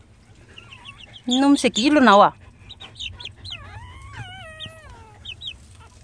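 A chicken clucks and gives a burst of loud, rising squawks, followed by softer clucking calls, while a person speaks over and between them.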